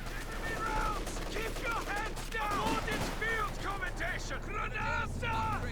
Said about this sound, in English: that's pyrotechnics being dropped on the battle group